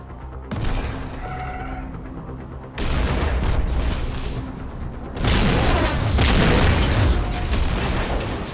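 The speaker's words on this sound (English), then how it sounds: "Michael escapes and detonates them, sinking the ship in a massive explosion." Charges detonate to sink a freighter in GTA V, heard as heavy booming blasts and a roaring, rumbling wash of explosion noise that swells in stages, loud and alone without talk.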